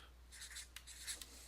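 A pen or pencil writes out numbers by hand on paper: faint, soft scratchy strokes in short quick runs with brief pauses between.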